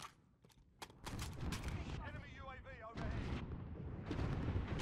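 An AC-130 gunship fires in Call of Duty: Modern Warfare, heavy booming bursts and rapid gunfire rumbling near and loud, with players talking over the barrage.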